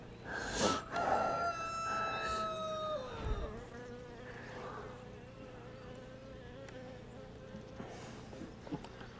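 Honey bees hum steadily around an open hive during a split inspection, a continuous close buzz with a rooster crowing briefly near the start and no talk.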